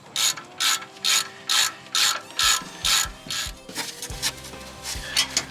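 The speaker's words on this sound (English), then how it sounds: "take your 1/2-inch wrench with your 18mm socket on it" A half-inch ratchet wrench with an 18mm socket tightening brake caliper bolts on a Chevy Express van, about nine rapid regular clicking bursts close up, then a looser run of clicks, no talking.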